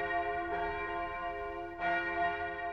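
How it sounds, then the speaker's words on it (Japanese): A church clock bell tolling at quarter to midnight in a Cinderella tale, two resonant strikes with long ringing overtones that sustain and overlap, clear and fairly near with no talk. "シンデレラがこうして二人の姉を楽しませているうちに11時45分の鐘が鳴りました。"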